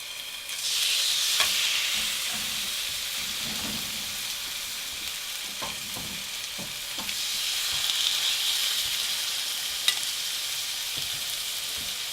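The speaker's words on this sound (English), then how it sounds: "put the garlic chicken breast on the grill, and you'll hear the sizzle" Steady sizzling hiss of garlic chicken breast cooking on a hot grill pan, with occasional soft clinks and scrapes, continuous and close throughout.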